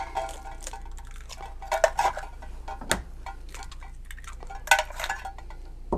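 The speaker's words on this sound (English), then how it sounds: "So here I have a mixing bowl. I'm going to take my eggs." Eggs are cracked into a mixing bowl while making quiche, a few sharp taps and clinks against the bowl spaced out over several seconds, close and clear with quiet between them.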